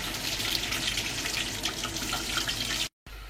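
Hot water pours into a pan of frying cauliflower, a dense close splash and sizzle that runs steadily before cutting off abruptly near the end.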